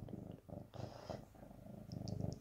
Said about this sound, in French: Puis tu ronronnes en plus.